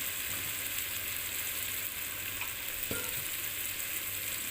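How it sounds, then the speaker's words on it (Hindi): Garam masala added to a spicy fish curry sizzling in a pan, a constant close frying hiss with a faint stir or clink partway through and no talking. "अब मैं ये डाल रहा हूँ जी गरम मसाला"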